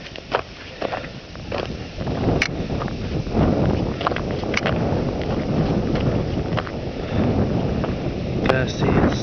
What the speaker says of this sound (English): I see it's still windy here, even after snow stops.